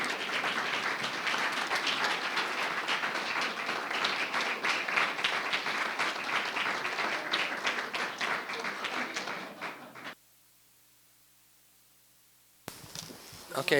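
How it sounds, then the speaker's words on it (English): An audience at a school board meeting claps in steady, sustained applause for about ten seconds before it stops abruptly, followed by near silence and a brief burst of sound at the end. "join me in giving Mrs. Amy Mazzell Flint a round of applause as a thank you for this dedication"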